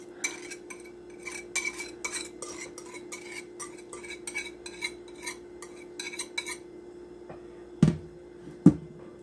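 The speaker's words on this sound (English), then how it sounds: "And then we're going to give it a good stir." A utensil stirs cinnamon roll cake batter in a bowl, giving a quick run of close scraping and clinking strokes that then slows, ending with two sharper knocks against the bowl.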